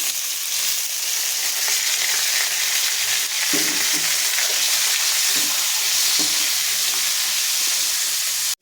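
Broad beans are stir-fried for poriyal in a hot pan, giving a loud, continuous hissing sizzle up close, with a few soft stirring scrapes partway through and no speech.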